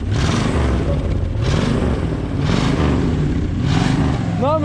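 A Porsche Cayenne's 7.5-litre V8 engine runs nearby with a deep rumble and rises in repeated rev pulses, while people talk over it.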